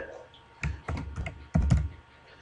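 A few quick bursts of keyboard clacking, close and moderately loud, separated by short pauses.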